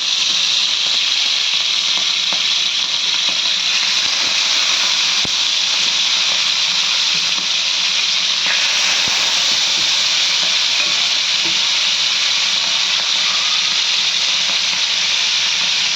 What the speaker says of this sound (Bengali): এবার আমি দিয়ে দেবো এই চিকেনগুলোকে সব ভালো করে দই থেকে চিপে চিপে এগুলো ভাজতে হবে